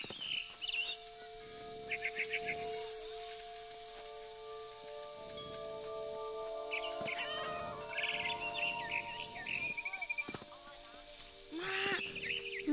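A cat meows repeatedly in the video game What Remains of Edith Finch, short high cries over a sustained tonal game soundtrack, with a player talking intermittently.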